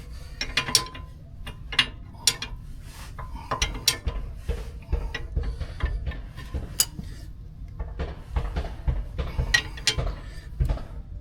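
Ratchet tightening a nut on a ball joint of a Chevy K5 Blazer, giving scattered clicks and metallic clanks in irregular bursts, close and moderately loud with no talk.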